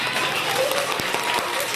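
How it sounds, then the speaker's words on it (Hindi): Children in a Standard 1 classroom at an Urdu primary school break into a short, loud burst of clapping, close and lively, with a voice faintly mixed in. "वाह वाह वाह, तालियां बजाओ, तालियां सभी।"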